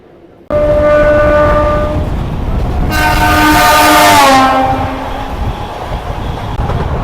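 An Indian local train races along the Barddhaman–Howrah chord line with a loud, constant rolling rumble, as a long two-tone horn sounds nearby, rising and then fading, with no voices.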